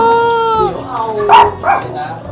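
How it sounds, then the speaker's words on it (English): Two dogs at the century-old Wang Lang Market in Bangkok give a drawn-out whine followed by a couple of short yaps, close by, with people talking in the busy market around them. "two cute dogs also to greet us"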